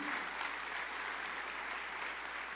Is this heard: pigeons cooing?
no